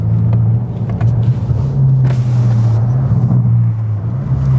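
BMW F90 M5 on the road, heard from inside: a steady, loud low engine drone and road rumble with slight shifts in pitch as it cruises.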